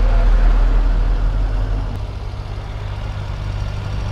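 An MV4 motorcycle engine idles with a steady, deep rumble, fairly close and continuous, easing slightly in loudness partway through with no talk over it.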